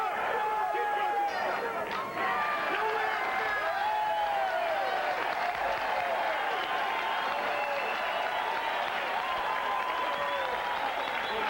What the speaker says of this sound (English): Wait till you hear the roar after this